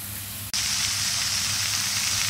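Spices and garlic hit a hot pan and break into a loud, steady sizzle that continues evenly to the end.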